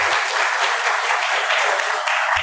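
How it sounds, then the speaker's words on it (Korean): A church congregation at a Korean Sunday service applauds together, dense continuous clapping throughout with no talk. "박수 한번 하십시다"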